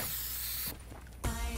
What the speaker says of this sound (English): Spray emote.